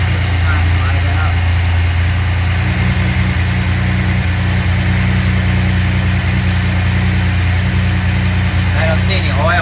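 A Datsun 240Z engine runs steadily after a restart, a loud, close, droning idle with a constant low hum throughout and faint brief sounds near the end.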